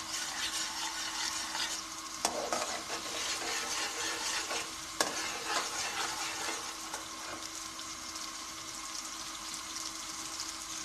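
Onions fry in a pan, a steady loud sizzle with scraping stir strokes now and then, and no talk.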